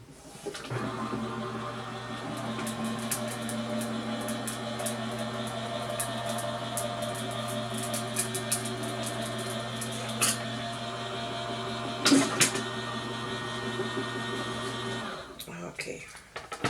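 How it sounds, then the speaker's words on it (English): An electric die cutting machine runs paper and vellum through an embossing folder with a steady motor whine that lasts about fourteen seconds, broken by a few clicks and a clunk near the end. "Okay, so I'm gonna run it through my cutting die machine."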